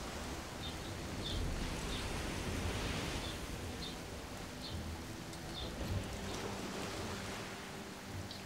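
Steady heavy rain with rumbling thunder during a storm in the video game Risen 2, a dense continuous wash of downpour with low rolls underneath and no voices.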